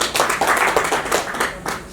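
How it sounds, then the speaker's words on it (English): Audience applause with brisk, steady clapping from many hands, fairly close and lively, tapering slightly toward the end. "Big round of applause one more time."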